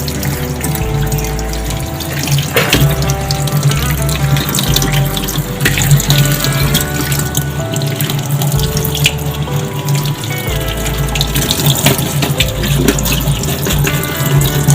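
Mangoes being washed under a running kitchen tap, water streaming steadily and loudly for the whole stretch with small splashes and shifts as the fruit is handled, no voices.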